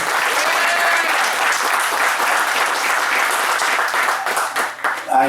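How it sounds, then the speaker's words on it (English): Loud, dense applause from an audience at a Carson city hall gathering, a full wash of many hands clapping steadily before thinning out near the end. "Let's give ourselves a big round of applause"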